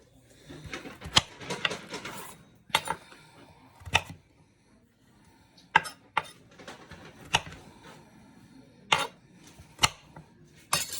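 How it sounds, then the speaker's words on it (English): Knife chopping root vegetables on a cutting board for a roast, heard as irregular sharp knocks in loose bursts against faint kitchen background, fairly close. "here I go chopping again with no glasses on"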